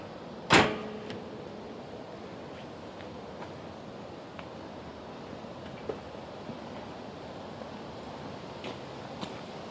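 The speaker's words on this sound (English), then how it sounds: "let's close the hood and make sure that it'll open back up" A car hood slams shut once with a sharp, loud thud, followed by a quiet, steady background with only faint small knocks.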